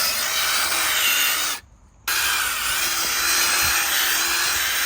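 A Ryobi hand drill spins a hand auger tiller through garden soil, a steady loud whirring grind that cuts out briefly for half a second, then resumes and runs on evenly.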